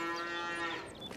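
A single cow in a Canadian pasture lets out a close, steady moo that holds for about a second before trailing off, with no talking.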